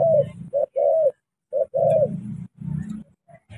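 Spotted doves of Vietnamese stock coo in repeated close, loud phrases with short pauses between, calling on their own with no voices around them.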